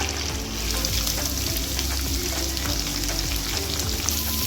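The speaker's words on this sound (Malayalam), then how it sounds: "എല്ലാം കൂടി നന്നായിട്ട് വഴറ്റി കൊടുക്കുക" Ginger, green chili, curry leaves and onion fry in hot oil with a loud, steady sizzle, stirred throughout, and no voices over the constant crackle.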